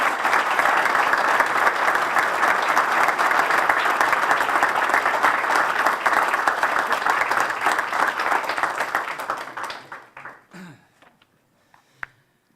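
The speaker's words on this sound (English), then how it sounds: "let's give him another round of applause" A congregation gives the Governor sustained applause at the groundbreaking ceremony for Thomas Kennedy Park in Hagerstown. The dense clapping holds steady and loud for about nine seconds, then thins into scattered claps and fades to near silence.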